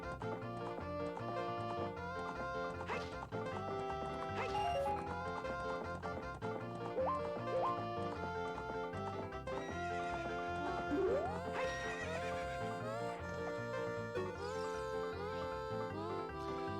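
In the video game Ocarina of Time, a horse gallops with rhythmic clip-clop hoofbeats and gives a neigh, set against steady background game music.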